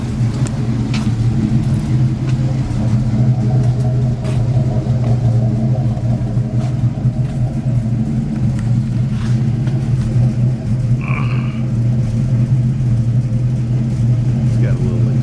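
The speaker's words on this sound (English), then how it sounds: "It's idling pretty happy." Dually truck engine fitted with a Q-jet carburetor idling steadily, a continuous low rumble with a slight exhaust leak up front, close by with faint talk underneath.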